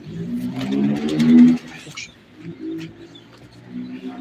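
A hungry, thirsty pet pigeon coos in low, throaty warbles close by, with a louder rolling phrase followed by softer repeated coos and faint background noise.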